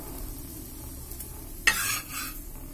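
Kaara poli frying on a stove, a faint steady sizzle with a sudden louder burst of stirring and sizzling near the end, close by, with no talking.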